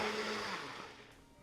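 A blender whirs steadily with a dense, buzzing motor roar that winds down slightly toward the end, close and fairly loud.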